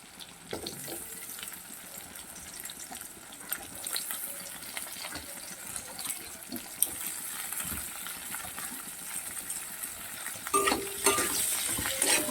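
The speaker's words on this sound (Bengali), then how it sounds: "আলু আর পেঁয়াজকে ভালো করে আবার ভালো করে ভেজে নিতে হবে" Potatoes and onions frying in a pan, a steady crackling sizzle with occasional scraping stirs, growing a little louder near the end.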